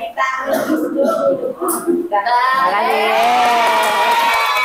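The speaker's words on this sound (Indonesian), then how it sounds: "Tepuk tangan." Audience cheering and whooping with shouts, loud and close, rising into a sustained mixed roar of voices after a busier, choppier start.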